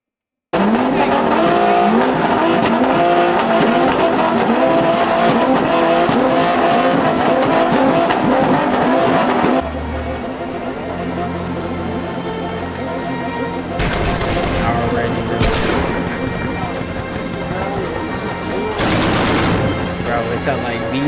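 V8 cars rev loudly at a car meet, with dense, roaring engine blasts for about ten seconds before the noise drops to a lower idle rumble broken by a few sharp bursts. Faint voices mingle in.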